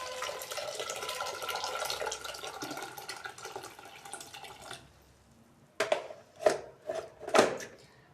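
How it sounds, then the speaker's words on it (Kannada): Water splashes into a sambar pot for about five seconds, a dense, close pour that fades out. Then comes a quiet pause and a few sharp separate clinks of utensils. "ಈಗ ಹಾಕಿ ನೀರು ಹಾಕ್ತಾಯಿದ್ದೀನಿ."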